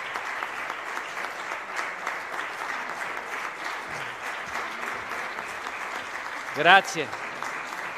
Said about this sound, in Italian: mi pare che gli applausi dicano tutto